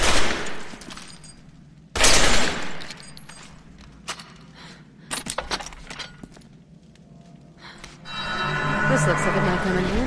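Gunshots in Resident Evil 6 blasting a rusty lock off, several sharp loud bangs spaced across the stretch with clanking between them, then a sustained noisy rush at the end.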